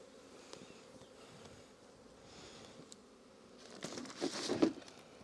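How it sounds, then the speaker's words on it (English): Honey bees buzz faintly at a hive being supered in cold weather, a soft hum that swells near the end with a few sharper handling sounds. "Just going to let those bees crawl into there."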